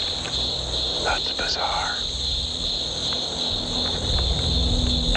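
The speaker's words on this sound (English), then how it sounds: "Yeah, but why freaking crickets?" Crickets chirp at night in American Samoa, a steady high-pitched trill that continues throughout, with brief remarks from a man over it.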